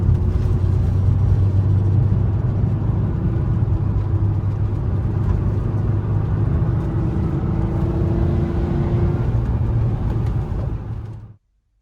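A van drives along a road in Australia with a steady, loud engine drone and road rumble from inside the cabin, which cuts off abruptly near the end.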